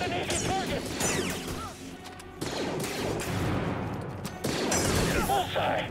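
Blaster fire and crashing impacts from the Star Wars Jedi Fallen Order video game, busy and dense with repeated bursts over game music and effects, and a voice speaking briefly.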